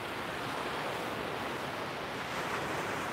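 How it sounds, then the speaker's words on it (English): Ocean surf rolls and washes in a steady broadband roar, continuous and fairly close for the whole stretch, with no voices over it. "Soak in the colors, the sounds of those beautiful waves"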